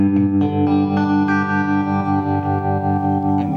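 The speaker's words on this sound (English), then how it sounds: "we've got the vibrato turned on right now as well" Fender tube amplifier carrying an electric guitar with the vibrato effect switched on, sustained chords pulsing in a steady wavering rhythm, loud and close with a wash of reverb and no voices.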